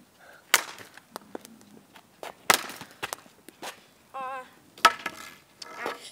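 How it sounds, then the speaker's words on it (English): Hockey shots fired at a net come as a scatter of sharp, sudden cracks and slaps with gaps between them, fairly close, alongside a short whistle-like tone and some light clatter. "just gonna take shots on nets."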